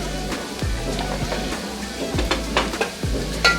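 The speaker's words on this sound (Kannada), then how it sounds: "ಇದನ್ನು ಕೂಡ ಎಣ್ಣೆಯಲ್ಲಿ ಫ್ರೈ ಮಾಡ್ಕೋಬೇಕು" Half a spoon of ginger paste frying in oil with browned onions in a pan, making a steady close sizzle throughout, with a few soft stirring scrapes and no talk.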